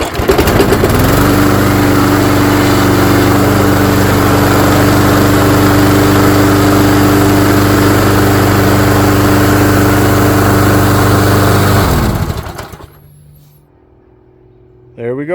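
A Yard Machine lawn mower's Briggs and Stratton engine, just fitted with a repaired recoil starter, runs loud and steady with an even droning hum for about eleven seconds, then cuts off into near silence.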